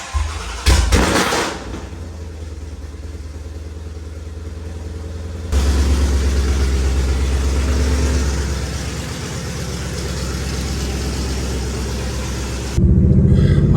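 A Ford Shelby GT500 engine cold-starts with a sharp crank and roar, then settles into a deep, loud, rumbling idle that rises again toward the end.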